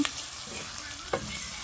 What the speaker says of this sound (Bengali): আমি কয়েকটা রসুন কুচিও দিয়ে দিয়েছি এগুলোকে একটু ভাজবো